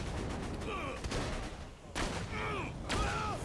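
Gunfire in Borderlands 2 sounds as a few sharp shots with ringing tails, heard around one, two and three seconds, over a steady game background hum.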